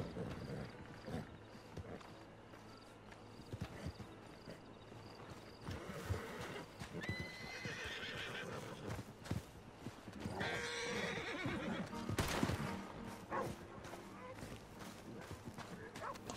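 In Red Dead Redemption 2, a horse whinnies and hooves clop amid gameplay noise, fairly faint and mixed with other game sounds, with a sharp louder burst near the end.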